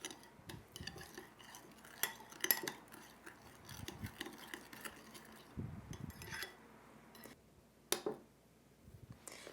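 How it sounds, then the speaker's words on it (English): A spoon stirs a yeast mixture in a bowl for challah dough, giving faint, irregular scraping and clinking of utensil against the bowl, close up and quiet, with no talk. "Just mix all of that together."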